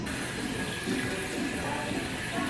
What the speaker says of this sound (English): I am going to rinse this under hot water